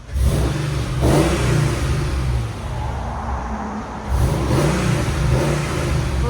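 Supercharged 5.5L V8 of a 600-horsepower Mercedes E 55 AMG sedan with headers and cat-back exhaust, revved twice up close: loud surging roars with a quieter settling dip between, no talking.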